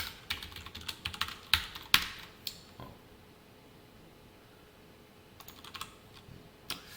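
Someone types on a computer keyboard nearby in a quiet room. An irregular run of crisp key clicks comes early, then a pause, then a few more scattered taps.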